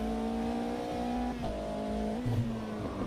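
Race car engine in a racing video game, droning at high revs and stepping up in pitch through short-shifted gear changes, with a brief low scuff near the end, loud and steady.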